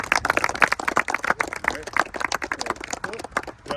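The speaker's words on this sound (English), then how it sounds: "So for that, I give you guys a round of applause for showing up here." A crowd at a 2024 athletes' camp at Decatur High School claps in a dense, steady burst of applause, many hands patting fast and close together throughout with no pause.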